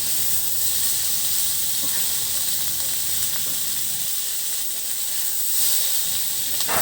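Vegetable bhaji sizzles steadily in a pan after cumin paste, onion and garlic go in, a constant close hiss with faint stirring scrapes and no voices.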